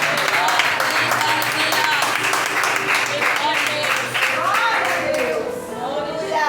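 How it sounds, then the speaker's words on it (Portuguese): A congregation applauds in a steady, dense wash of clapping that fills the room, with voices mixed in and the applause easing slightly near the end. "Você que pode aplaudir Jesus de Nazaré"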